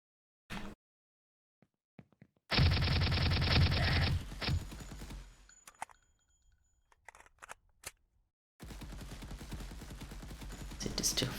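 Rapid automatic gunfire in an Unreal Engine 5 top-down shooter game, a loud dense burst of shots that gives way to scattered single shots and mechanical clicks, then a second sustained burst toward the end.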